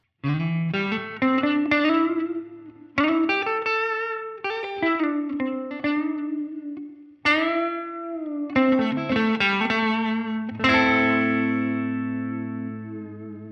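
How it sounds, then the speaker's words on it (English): A 3D printed electric guitar plays through a classic Fender amp with reverb, a clean melodic line of picked notes and chords with bright ringing sustain and a lingering reverb tail, played alone. "Here's a classic Fender reverb sound."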